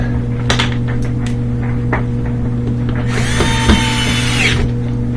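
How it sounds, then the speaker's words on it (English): A power drill drives screws into a part of a Samsung washer, a short whirring burst after some handling clicks and taps, close over a constant low hum. "Put in those screws."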